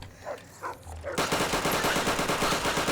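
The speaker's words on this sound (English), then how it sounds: "I'm gonna Uzi the shit out of these rats" Rapid automatic fire from an Uzi submachine gun aimed at rats in Fallout: New Vegas, a loud sustained burst starting abruptly after a second of quieter ambience and continuing steadily to the end.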